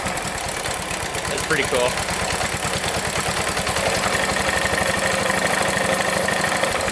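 Rare 1970s Pacesetter three-wheeler engine being revved during a repair, a steady close putter with rhythmic knocking pulses that rises in intensity, loud and continuous while someone speaks briefly.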